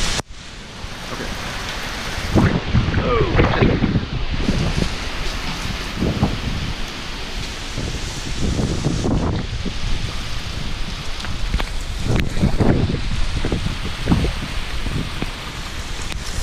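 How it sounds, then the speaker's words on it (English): Hurricane Irma battering Orlando, with strong wind gusting and roaring in surges over steady rain, loud and close throughout. "Lots of rain, lots of wind."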